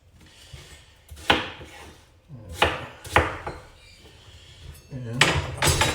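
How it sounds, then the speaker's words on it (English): A knife roughly chops onions for a beef curry on a cutting board, with a few loud, uneven thuds spaced out over several seconds and quieter kitchen sounds between them. "Just rough chop it up."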